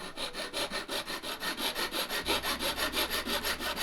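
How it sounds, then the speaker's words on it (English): A small hobby saw rasps back and forth through a hardened metal nut in a steady, even rhythm, close and continuous, with a low hum joining partway through. "I decided to do that with this little hobby saw."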